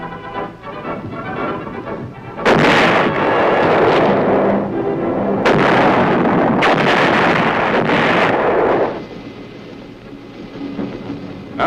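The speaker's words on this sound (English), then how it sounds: "the 175s reliably deliver shells with pinpoint accuracy on targets over 10 miles away" Two or three 175 mm artillery guns firing shells at the Aberdeen proving grounds give heavy booms with long rumbling tails, loud and close, roughly 2.5, 5.5 and 6.7 seconds in, over steady wind-like noise.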